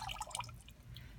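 Ceramic glaze poured inside a bisqueware cup, a soft, faint liquid splash and trickle heard alone at close range.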